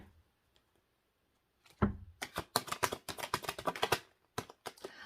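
Tarot cards are drawn and flicked from a deck in a quick run of crisp, dry taps and snaps, close and fairly quiet, with a short thump at the start and a few scattered flicks at the end.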